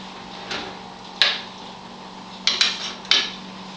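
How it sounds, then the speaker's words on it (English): Philadelphia cream cheese stirred into liquid in a pot brings a few sharp metallic clinks of a utensil against the pot over a low steady background hum, spaced irregularly with a quick cluster late on. "So just stirring that around so that they can come together."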